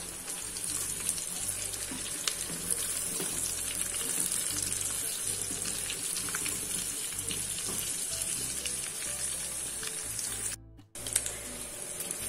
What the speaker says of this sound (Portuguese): Agora eu vou colocar a linguiça calabresa para que refogue junto